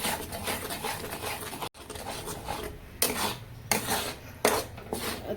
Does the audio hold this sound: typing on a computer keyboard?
no